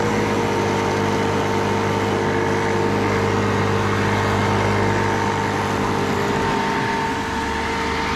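A gas-evacuation machine hooked to a Goodman HVAC unit runs at a steady, loud mechanical drone with a constant hum, close by and unbroken, no voices.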